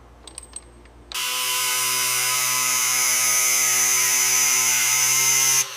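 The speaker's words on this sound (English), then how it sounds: "just got to get these chains set up on the hydraulic puller. We're going to apply some pressure and straighten this frame out." A hydraulic puller with chains set up to straighten a crashed water tank truck's frame starts with a few clicks, then a loud, steady motor-pump drone with a high whine that holds for several seconds before cutting off abruptly.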